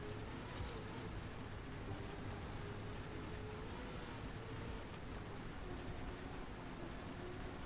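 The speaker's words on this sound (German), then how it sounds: "Also Regen nervt mich brutalst" Steady, dense rain in a racing video game, an even wash of hiss and patter with no pauses, faint and alone.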